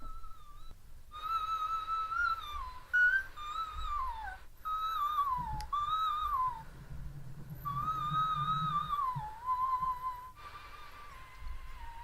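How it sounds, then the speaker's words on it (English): A played recording of a singer singing a whistle note: very high, thin sustained tones that slide and bend, heard in several phrases over a low hum, with no talk. "That's called a whistle note."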